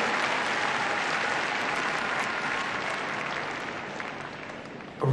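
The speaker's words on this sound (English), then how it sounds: "Give her a big round of applause." An audience at a freestyle heelwork-to-music dog competition gives sustained applause, a dense even wash of clapping that carries on steadily and fades slightly toward the end.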